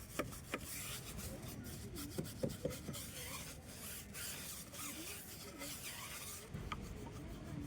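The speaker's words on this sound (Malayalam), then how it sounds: "ആദ്യം നമുക്ക് ഇതിൻ്റെ റബ്ബർ പാർട്ടൊന്ന് സ്ക്രബ്ബർ ഉപയോഗിച്ച് സ്ക്രബ് ചെയ്യാം." A scrubber rubs back and forth over the rubber of an Ola electric scooter tyre coated with tyre cleaner, producing a continuous close rasping scrub with occasional sharper scrapes and no talk.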